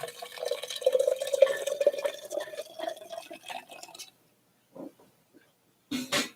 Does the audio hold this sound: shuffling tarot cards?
no